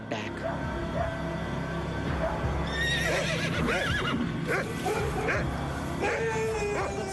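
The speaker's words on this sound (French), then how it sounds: "surtout des chevaux qui hennissaient et des chiens qui aboyaient" Panicked horses whinny amid a busy, noisy scene, with dogs barking at intervals and a steady background rumble throughout.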